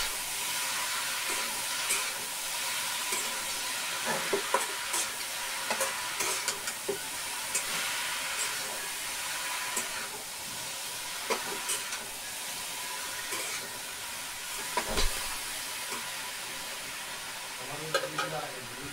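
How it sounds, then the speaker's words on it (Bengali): Boiled leafy greens stir-fried with dried chili and garlic in a pan, a steady soft sizzle with scraping stir strokes throughout, fairly close. "এবার হচ্ছে সেদ্ধ শাকটা দিয়ে দেবো, অল্প কিছুক্ষণ নেড়ে ছেড়ে ভেজে নিলেই হয়ে যায়।"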